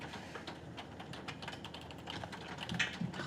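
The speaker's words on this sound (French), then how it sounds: "est-ce que quelqu'un peut venir taper à ma place sur le clavier?" Rapid clicking of fingers typing on a computer keyboard, a steady run of small close taps that grows a little busier toward the end, with no talking.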